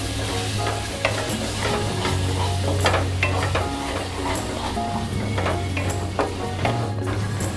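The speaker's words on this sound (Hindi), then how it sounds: "हम अपनी ग्रेवी का भी ध्यान रखेंगे, इसे बीच बीच में चलाते रहेंगे" Lauki kofta gravy being stirred in a kadai, with a steady low sizzle and repeated spoon scrapes against the metal at an irregular pace, close and moderately quiet.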